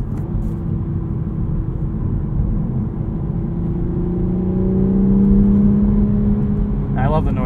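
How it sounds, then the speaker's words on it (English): A 2023 Toyota GR Supra 3.0 manual engine hums and builds in pitch as the car accelerates, a smooth rising drone with some piped-in engine sound heard from inside, with a brief voice near the end. "I love the noise this makes, even though there's a little bit of piped-in engine sound."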